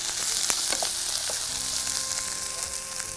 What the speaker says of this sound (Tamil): இப்போ இது நல்லா வதங்குது.